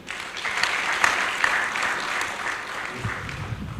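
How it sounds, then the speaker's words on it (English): An audience claps for an honoree at a decoration ceremony for newly promoted officers and men of a service, a short burst of steady clapping with a few louder claps and a low rumble near the end. "Please, a round of applause for him."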